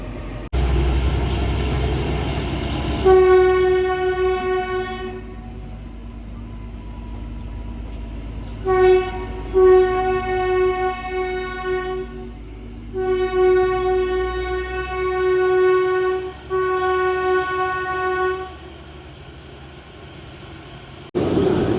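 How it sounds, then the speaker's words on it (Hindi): Loud, sustained horn blasts from the Kalka–Shimla toy train before departure, in several long pulses with short breaks, rumbling low engine noise underneath and no talking. "तो हॉर्न बजेगा और उसके बाद फिर अपनी जर्नी स्टार्ट होगी"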